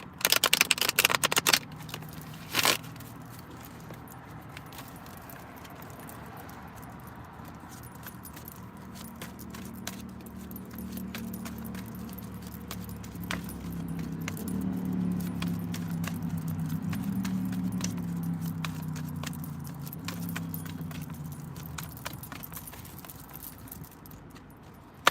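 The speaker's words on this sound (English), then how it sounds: "you can hear me shuffling" Playing cards are shuffled with a few quick riffling bursts near the start, then faint scattered clicks over a steady low vehicle rumble.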